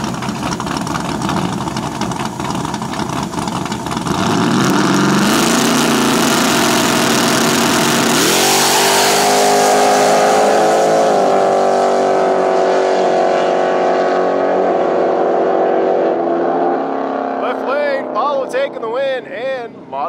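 A no-prep drag race car's engine roars at full throttle, loud and close, then climbs and settles into a sustained high-revving drone. Talk and crowd noise at a drag strip sit beneath it.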